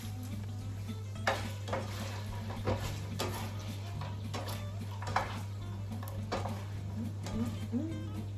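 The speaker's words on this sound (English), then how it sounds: "I'm just gonna toss these veggies in the pan juices" Vegetables tossed in pan juices from a spatchcocked chicken, giving a soft continuous sizzle with scattered stirring scrapes and light clinks of utensil on the pan, over a steady low hum.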